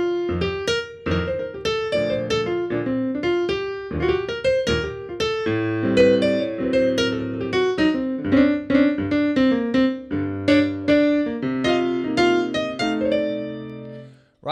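Extended solo jazz piano improvisation built on textures, dynamics and slides: busy runs, rolled and repeated chords and swelling accents flow continuously at close range, with no voice over the playing.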